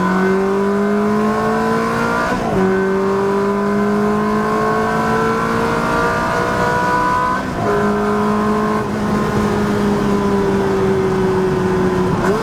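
A Ferrari accelerating hard in third gear, its engine note climbing steadily with loud rising harmonics, broken by brief dips at gear changes, heard from inside the car with no talk.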